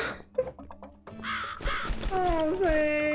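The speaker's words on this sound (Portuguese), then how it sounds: "corvo" Crow cawing inside The Cat Lady video game, a harsh bird call rising over a dark musical backdrop, with tonal game sounds and a voice-like drone layered in near the end.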